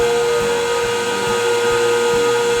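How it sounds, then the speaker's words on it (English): A record cleaning machine vacuums cleaning fluid from the grooves of a vinyl record through a suction unit underneath, producing a loud, steady motor whine and hiss that holds constant throughout with no talking. "vacuuming the fluid from the grooves. The vacuum is underneath."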